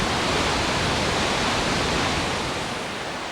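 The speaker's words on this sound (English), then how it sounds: "reappears in a waterfall that spills into the lake in Velika Dolina" The Reka River spills as a waterfall into a lake inside the deep karst gorge of the Škocjan Caves, a dense, steady roar of falling water that eases slightly toward the end, with no voices.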